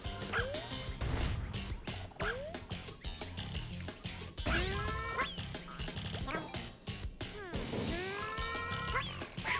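A cartoonish yarn puppy in Yoshi's Woolly World gives repeated short yips and barks over bright, busy game music, with several rising squeaky calls.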